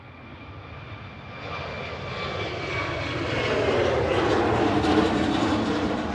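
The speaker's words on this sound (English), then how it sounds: "That was flight 1175 with a 737-800 EIGXJ heading over" Ryanair Boeing 737-800 jet departing Manchester Airport, a steady roaring engine rumble that swells louder and closer as it climbs out, with no voices.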